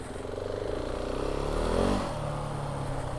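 Motorcycle riding through slippery, slidey mud, its engine a steady close drone that swells and revs up briefly before settling back.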